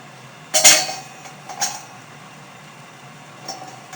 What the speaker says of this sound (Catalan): La posem a la paella